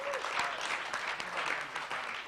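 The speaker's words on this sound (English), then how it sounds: "Big round of applause to all of you guys." An audience claps steadily through the brief stretch, a dense, even patter of many hands filling the room at moderate loudness.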